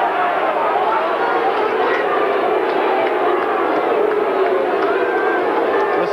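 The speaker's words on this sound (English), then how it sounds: "Still the crowd tells the story." A 1985 Australian football crowd roars in a big stadium, a loud, steady, surging wall of cheering and shouting with no break.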